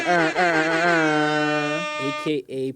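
A voice imitates an air horn with one long blaring note followed by a few short, sharp blasts.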